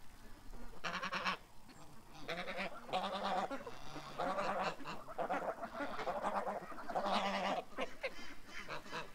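Geese honking repeatedly in loud, overlapping bursts as the flock comes over, harsh nasal calls rising and falling across the whole stretch with brief gaps between volleys.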